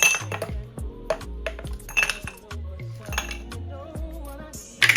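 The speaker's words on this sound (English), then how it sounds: "So I'm going to put in these cubes" Ice cubes are dropped one after another into a glass while a drink is made, giving a series of sharp clinks and knocks at an uneven pace, close and clear with no talking.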